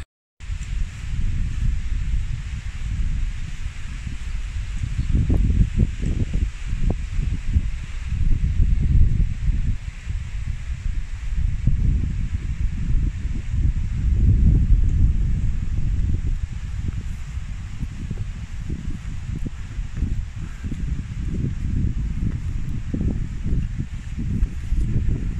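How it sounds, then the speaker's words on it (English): Wind gusting across an open mountain path near Great Gable, a continuous low roar buffeting the microphone with surging and easing gusts throughout, no talk. "It's a bit windy."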